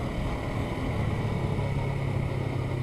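A 2019 Honda CB500X motorcycle on the move, its engine holding a steady low drone blended with wind rush, continuous and close without any break for about three seconds.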